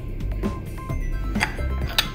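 Chili chicken is stirred in a pan, a utensil clinking and scraping against the metal in uneven knocks over a steady low kitchen rumble, close and moderately loud, with no voices.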